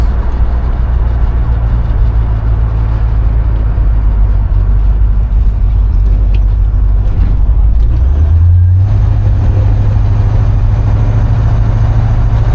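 A 1969 Buick Skylark with a 350 engine cruises down a road with a loud, steady low engine drone that shifts up in pitch partway through, alongside faint road noise.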